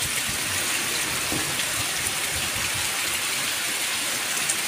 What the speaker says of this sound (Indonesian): ini lagi dicuci malah hujan